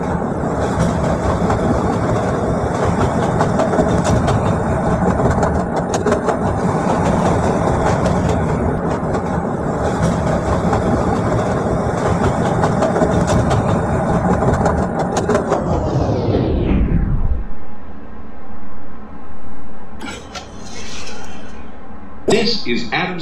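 A CTA Orange Line train made of Budd 2600 series cars in a Roblox game gives a steady, loud rumble and roar with rail clatter for about sixteen seconds, then cuts off abruptly, leaving a faint hum and brief clicks.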